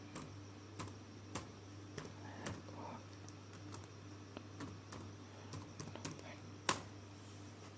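An admin username and password are typed on a laptop computer keyboard, heard as sparse, irregular, sharp key clicks with one louder keystroke near the end over a low steady electrical hum, with no voices.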